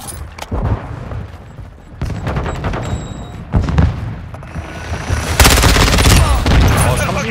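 Video game gunfire from Call of Duty: Modern Warfare 2 with the ISO 9mm gun, loud and close, in rapid bursts and sustained automatic fire broken by short gaps, with deep booms in the mix.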